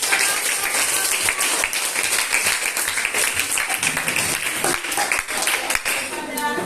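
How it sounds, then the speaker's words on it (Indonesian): Classroom applause for students who presented their discussion, scattered hand claps from a small group that are fairly loud and uneven, mixed with some voices. "Tepuk tangan buat"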